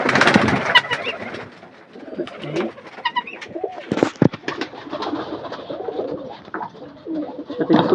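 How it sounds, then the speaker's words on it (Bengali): Racer and mukhi pigeons in a loft coo in soft, repeated bursts, with scattered wing flutters and shuffling, close by and moderately loud, with no voices over them. "এই যে রেসার কবুতর, এই মুখী কবুতর যেটা আপনাদের সবাই পছন্দ, মুখী কবুতর।"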